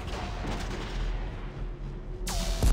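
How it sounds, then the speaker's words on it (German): Reaper weapon fire in the video game Mass Effect 3: a sustained rumbling, booming barrage with a low steady drone, ending in a sharp loud blast near the close. "Schießt nochmal, Reaper schießt zurück."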